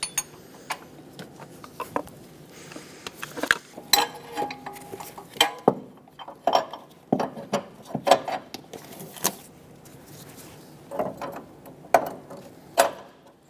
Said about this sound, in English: Torque the top bolt to 40 foot-pounds.